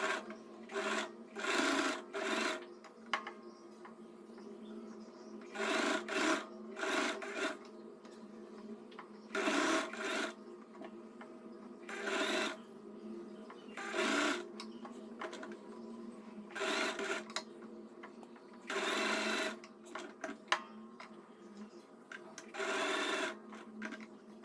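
Sewing machine stitching piping onto fabric along a folded seam, repeated short runs of quick rattling stitches separated by pauses, close but moderately quiet.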